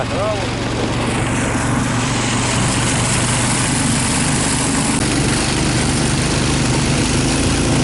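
A vehicle engine drones loud and steady as it pushes through deep untouched snow on the way to a forest river, the heavy low rumble unbroken from start to finish.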